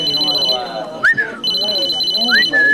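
A telephone ringtone trills in steady bursts near a wedding celebration, with a brief pause midway and gliding vocal sounds layered over it.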